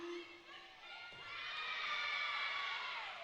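A home crowd at a college gymnastics meet between Presbyterian College and Limestone cheers and shouts in a rising burst, the high voices swelling and holding at a distance, with no talk over it.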